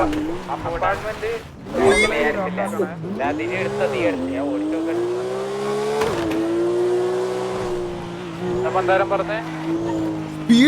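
A car engine revs hard, its pitch swooping up and down through gear changes, mixed with squealing tires. Voices talk over the engine most of the time.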